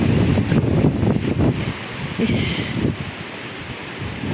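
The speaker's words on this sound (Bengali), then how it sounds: "কিন্তু এখন কি বাতাস।" Strong storm wind gusting over a village in the Khulna region near the Sundarbans and sea, a loud, steady broadband roar with surging gusts and no voices.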